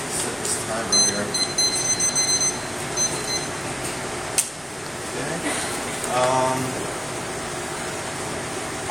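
A kitchen oven timer is set for baking raspberry financiers, giving a series of short, high electronic beeps in quick succession near the start, with a person talking and a steady background hum.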